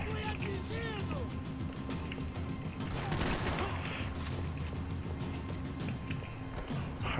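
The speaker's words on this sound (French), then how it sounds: "On va bien tester un fusil à pompe." Shotgun blasts in the video game Max Payne 3, heavy booming bursts sounding over a dense, continuous wash of game noise, loud and close.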